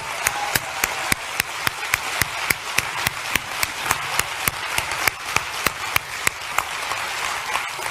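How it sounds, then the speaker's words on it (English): Church conference audience applauding in Sydney, resolving into loud, evenly spaced rhythmic claps in unison over a softer crowd bed, steady and sustained throughout. "let's give a big clap to all the 7 churches"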